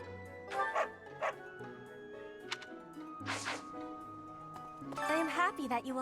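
Dog barking in the video game Fire Emblem Three Houses: several short yips and bow-wows spread across the clip, sitting over game music, with a louder burst of barks near the end.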